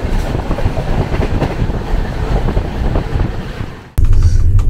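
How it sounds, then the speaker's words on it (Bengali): The Kumbha Express, an Indian passenger train, running on rails in Uttar Pradesh, with a loud, steady rumble and clatter from inside the carriage and a sudden shift in tone near the end, with no talking. "এই এখন সুলতানপুর জংশন ছাড়লো ট্রেন"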